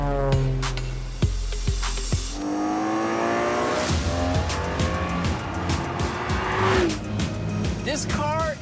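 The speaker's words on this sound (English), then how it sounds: "Do you hear that engine?" A car engine revs hard with a rising whine and tire squeal; the car has been made smaller for speed. Close and loud throughout, with a voice talking over parts of it.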